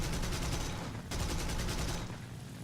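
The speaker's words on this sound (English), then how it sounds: "He knows that I'm shooting at him because of the tracers" Aircraft machine guns firing in War Thunder arcade air combat, two long rapid bursts of loud, rhythmic rattling separated by a brief gap, heard close and alone.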